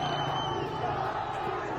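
A large protest crowd in Iran roars and shouts continuously during a street confrontation with security forces, a dense, steady wall of massed voices with no single voice standing out.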